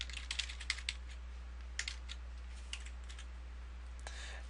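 Quiet, rapid keystrokes on a computer keyboard as a website address is typed, in short bursts of clicks with small gaps. The typing is faint and nearby over a steady low hum.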